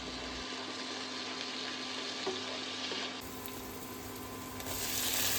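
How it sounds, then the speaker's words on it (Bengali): Chopped onion frying in hot mustard oil in a wok, a steady close sizzle with soft stirring scrapes that grows slightly louder toward the end, with no talking. "কড়াইয়ে সর্ষের তেল গরম করে তাতে দিয়ে দেবো পেঁয়াজ কুচি দিয়ে একটু ভালো করে নেড়েচেড়ে নিয়ে"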